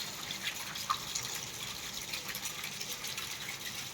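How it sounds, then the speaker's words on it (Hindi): Heavy village rain pours down with runoff water gushing and splashing steadily nearby, a continuous wash of drips and flowing water with no voices. "ये इतनी तेज़ बारिश आ रही है कि यहाँ से इतना पानी निकल रहा है।"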